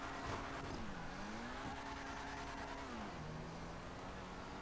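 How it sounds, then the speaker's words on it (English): An Audi R8 race car in GTA V accelerates with a steady, droning engine note that climbs and dips through gear changes, loud and continuous with no pause. "Let's see how fast this vehicle can go."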